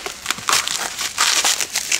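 Packaging around a glass item is torn and unwrapped, making close, loud bursts of crinkling and crunching in an irregular rhythm, with no voices.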